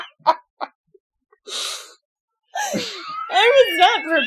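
A single sharp sneeze among quiet moments, surrounded by short breaths and snippets of people talking and laughing close to the microphone.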